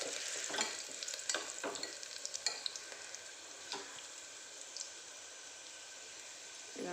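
Onions fry in a pan with a soft, steady sizzle, broken by scattered clinks and scrapes of stirring, heard close but fairly quiet.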